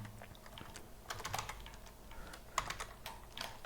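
Computer keyboard being typed on, irregular soft clicks and taps in quick bursts, close and quiet, with no talking.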